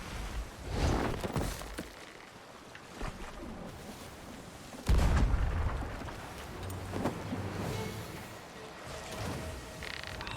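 Distant cannon fire booms out in Sea of Thieves during a ship battle at sea, with a few dull thuds and one heavier blast roughly midway, set against constant wind and water noise.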